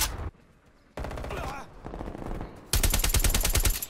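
Automatic gunfire from Call of Duty: Black Ops Cold War on the Collateral map, loud close bursts of rapid shots with brief pauses, ending in a sustained heavy volley.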